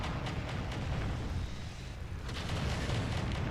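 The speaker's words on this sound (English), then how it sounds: "Oh, and there's those UACs opening up." Ultra autocannons in the MechWarrior 5 mech combat game fire a rapid, heavy stream of booming shots over a dense rumbling background, pausing briefly in the middle before the firing resumes.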